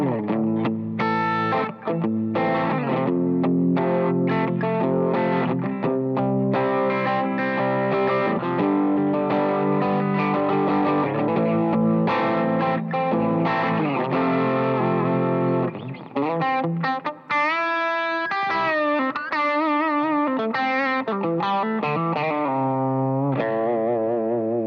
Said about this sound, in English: A little bit of overdrive.